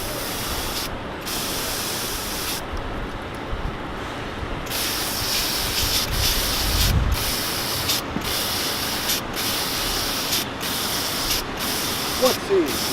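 Spray rig laying a heavier coat of extra-catalyzed coating along a seam, a steady hiss broken by short on-off pauses, with voices talking throughout.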